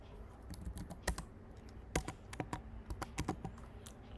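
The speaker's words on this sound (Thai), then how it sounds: "เราจะพิมพ์คำว่า method post ไว้ก่อนนะครับ" Code being typed on a computer keyboard, a close, quiet patter of uneven key clicks with a few louder strikes, with no voices over it.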